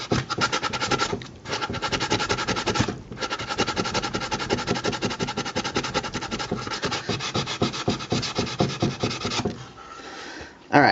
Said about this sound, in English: I'm just going to keep kind of sanding this down till it looks basically like this